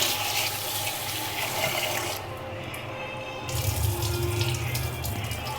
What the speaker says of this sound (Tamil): நல்லா 2 வாட்டி கழுவிட்டு தண்ணி ஊற்றி ஒரு 20 நிமிஷம் ஊற வச்சிடலாம்